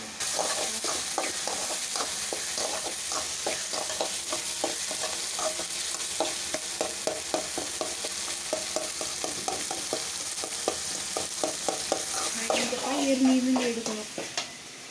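Catfish curry masala sautés in a pan, its close, steady sizzle broken by a regular run of spatula scrapes and stirring knocks. Near the end a brief clatter rises and the texture thickens.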